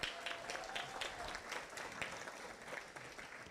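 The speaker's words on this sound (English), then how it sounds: "Everyone, give her a round of applause." An audience at a banquet applauds in a faint, fairly distant burst of many clapping hands that stays steady throughout.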